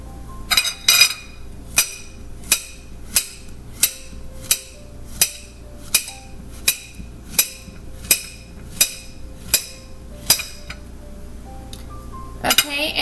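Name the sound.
knife slicing a banana on a cutting board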